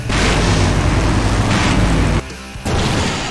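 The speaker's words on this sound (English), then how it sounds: "Now that's an explosion, ladies and gentlemen." A huge explosion roars in the video game Full Throttle Remastered, a loud, sustained rumbling blast that cuts off briefly and then surges back with more debris noise.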